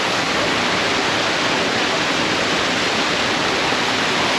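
Kyamunene Waterfalls in Bukoba, Tanzania roar as a dense, steady rush of falling water, loud and close, with no voices over it.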